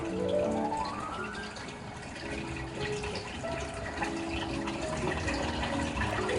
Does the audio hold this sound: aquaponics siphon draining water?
yes